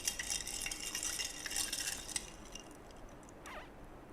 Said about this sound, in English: Now let me just stir it up a little bit